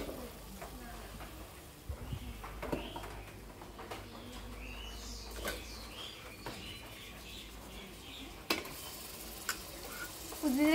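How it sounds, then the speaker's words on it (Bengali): Meat added to a pot of fried spices, a low steady sizzle with intermittent stirring clatter, fairly faint, with pigeons cooing and a voice in the background. "মশলাগুলো আমার কষানো শেষ। এখন মাংসগুলো দিয়ে দেব।"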